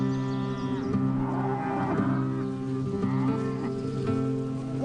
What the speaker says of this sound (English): So you just move these cows from this patch into here?